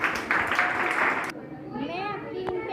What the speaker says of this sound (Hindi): आप अंजलि सोनी के लिए जोरदार ताली बजाएंगे